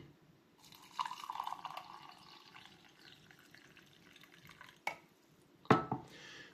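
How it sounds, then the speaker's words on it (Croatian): Boiling water is poured over a spoonful of raisins in a cup, giving a close, soft trickling and splashing pour in a quiet room, followed by two sharp clinks near the end. "Prelite ih sa kipućom vodom."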